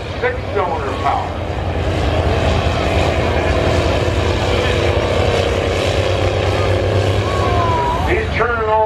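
An old stock semi truck with a 300-horsepower six-cylinder engine roars steadily and loudly through a limited pro stock semi truck pull in Boonsboro, Maryland, its deep drone continuous for the whole stretch, with an announcer's voice briefly audible over it.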